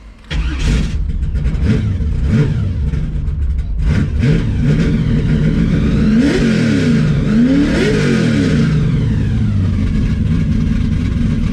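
A V8 LS-swapped Mustang engine cranks and catches, then revs up and down repeatedly with a loud, throaty roar that rises and falls in several swells.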